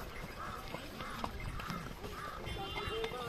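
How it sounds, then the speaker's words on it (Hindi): A line of horses walks in single file on a Gulmarg trail, their hooves clip-clopping in a steady, overlapping rhythm close by, with a horse whinnying briefly and people talking over the hoofbeats. "ये देखो सभी एक लाइन से घोड़े का काफिला चल रहा है।"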